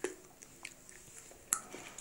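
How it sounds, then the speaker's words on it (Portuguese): Someone chewing a Halls candy close up, with quiet, irregular wet clicks and crunches and one sharper crack partway through. "Mastiguei."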